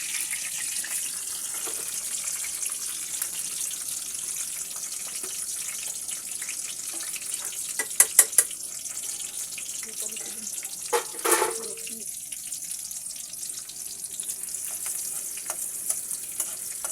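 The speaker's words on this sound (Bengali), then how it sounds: "পেঁয়াজ কুচিটাকে আমি ভেজে নিচ্ছি" Continuous sizzling and crackling of chopped onions frying in hot oil, steady throughout, with a few sharp metallic clinks of a spatula midway.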